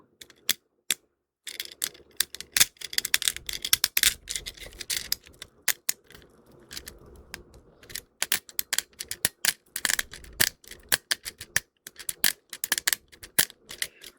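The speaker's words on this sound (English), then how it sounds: "This one I like because it makes a clicking sound as well." Rapid, irregular plastic clicking from a small fidget toy, with bursts of crisp clicks and brief pauses, close and fairly quiet.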